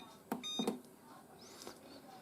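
A new washing machine gives a short electronic beep tone among a few button clicks at close range, followed by faint room noise and a brief soft murmur.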